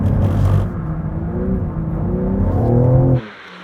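A 2024 BMW M3 CS drifting in a drift challenge, its engine droning loud and steady with rising harmonic tones for about three seconds before cutting off abruptly; no clear tire squeal stands out.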